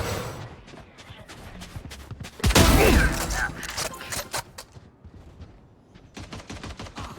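Rapid gunfire from the video game Valorant: sharp shots in quick bursts with a dense, loud volley in the middle, then scattered cracks and footsteps-like thuds fading out.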